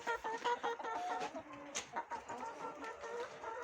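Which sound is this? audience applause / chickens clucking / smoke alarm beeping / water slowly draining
chickens clucking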